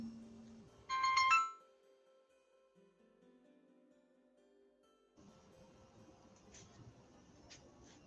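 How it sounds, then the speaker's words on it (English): A phone ringtone sounds loud and close for a brief burst of rising melodic tones, then cuts off into quiet room tone and low background noise, with no one speaking. "Okay, I got a phone call, y'all."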